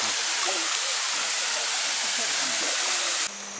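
Waterfall on Langkawi, Malaysia, roaring as a steady, loud broadband rush of falling water that fills the whole clip and drops off slightly at the very end.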